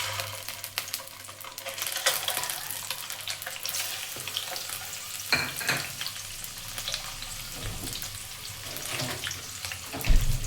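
Boiled eggs frying in oil in a pan for egg biryani, a steady soft sizzle with faint stirring and scraping, close and continuous with no talk.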